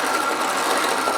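A sewing machine runs steadily, stitching elastic onto underwear, its continuous motor whir and rapid needle chatter close and even throughout.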